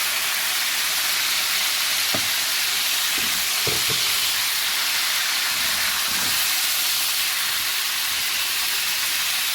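Chopped tomatoes fry in a pan with cumin for a chicken Afghani malai karahi, a loud, steady close sizzle and hiss with a few faint spoon scrapes scattered through.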